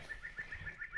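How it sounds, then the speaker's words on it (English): Birdsong echoes in a narrow gorge in the Bungle Bungles, with a rapid series of thin chirps repeating evenly over a faint hiss of open air. "And the bird song in here is so nice, and it just echoes off the walls."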